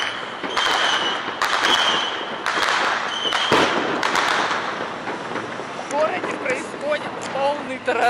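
Repeated sharp bangs of fireworks and firecrackers at the Las Fallas festival in Spain burst at irregular intervals, with a distant rumbling echo under foggy sky and some voices in the background.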